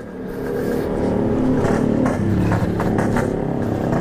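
A Yamaha RX King two-stroke motorcycle engine revs loudly and close, its raspy note rising and holding with rapid sputtering pulses.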